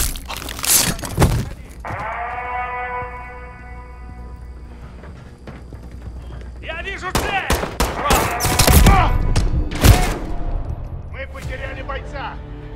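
Gunfire erupts in Call of Duty Modern Warfare 3, with sharp shots and rapid bursts, some near and loud. Tonal game sounds and voices run between the volleys.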